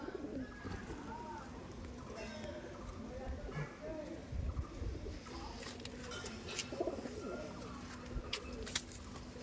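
Madrasi pigeons coo softly through a steady background murmur of voices and movement, with no single bird standing out.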